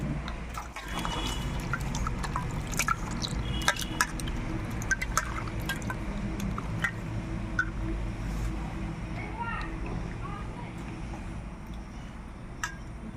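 Boiled sweet potato greens are washed in water, with continuous close splashing, sloshing and dripping as the leaves are handled in a bowl.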